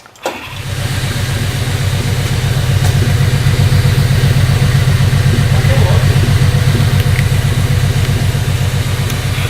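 A 2018 Subaru Crosstrek XV fitted with a new catback exhaust cranks to life and settles into a steady, throbbing idle, loud and close, with no other sounds.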